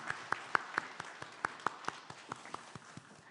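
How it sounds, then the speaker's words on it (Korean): A congregation claps at a church New Year's Eve worship service. The claps are sharp, close and quick, landing in an even rhythmic beat over a dense wash of softer clapping. "하나님께 영광 박수 올려드립니다."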